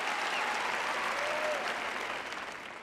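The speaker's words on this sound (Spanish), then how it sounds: "Les aplaudo." A large audience claps in sustained, dense applause, a steady wash of hands that holds evenly and then begins to fade near the end, with no talking.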